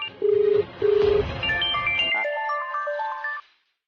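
A phone ringtone plays loudly: two steady electronic beeps, then a rising melodic tune that cuts off abruptly.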